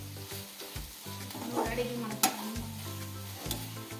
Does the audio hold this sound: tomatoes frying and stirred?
yes